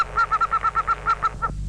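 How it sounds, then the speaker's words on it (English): A recorded wood duck assembly call plays as a rapid series of about a dozen evenly spaced, nasal squealing notes, loud and close, ending with a couple of slower, trailing calls. "Here's the wood duck call that was used in this test."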